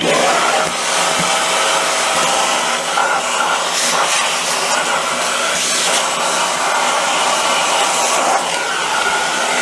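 A Vevor 4-in-1 wet and dry vacuum cleaner runs with a loud, steady, rushing motor roar that stays even from start to finish, with no talking over it.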